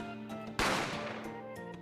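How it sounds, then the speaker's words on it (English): A single sharp gunshot in The Great Ace Attorney Chronicles, a loud sudden bang with a decaying echo tail over quiet background music. "A gunshot rang out"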